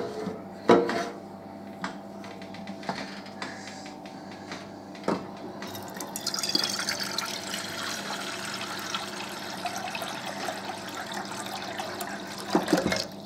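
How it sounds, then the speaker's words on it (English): Water running from a tap into a bowl in a home kitchen, a steady splashing flow that starts partway through after a few clinks and knocks of handling, heard alone without talk. "I'm gonna get a bowl and fill it up with some water"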